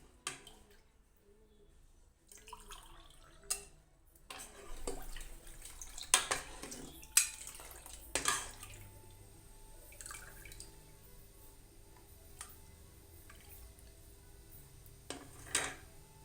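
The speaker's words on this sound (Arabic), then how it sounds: "نرفد هذه البلارات ونعمرهم" Glass jars are lifted and filled in a home kitchen, with water running and dripping into them alongside scattered clinks of glass, a steady faint flow under intermittent knocks.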